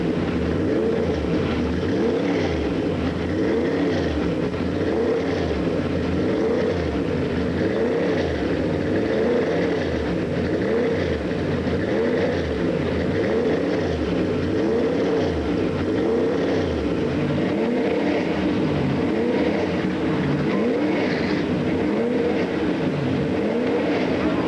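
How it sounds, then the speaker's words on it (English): Twenty-three Trans Am race car engines idle and rev together on the starting grid at Mosport in 1992, a loud, dense, continuous roar with rising and falling throttle blips throughout. "23 powerful engines have roared to life here at Mosport"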